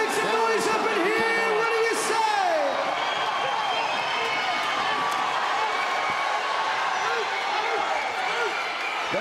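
Crowd at a 68 kg boxing bout cheering and whooping steadily throughout, with loud individual yells and whistles rising above the sustained roar.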